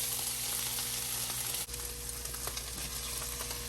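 Sautéed onion mixture goes into enchilada sauce in a pan, giving a steady, close sizzle and bubbling hiss with a brief clunk partway through.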